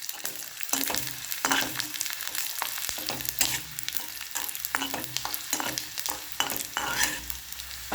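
Bombil, Bombay duck fish, frying in hot oil over a lowered flame, a close, steady crackling sizzle broken by repeated sharp spatter pops and scraping touches of a utensil, with no voices.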